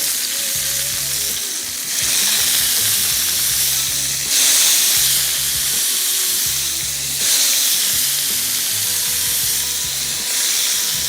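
Skewered vegetables and chicken for fajitas sizzle on a hot grill, a loud, steady frying hiss that swells in bursts as pieces are added or shifted, with no talking.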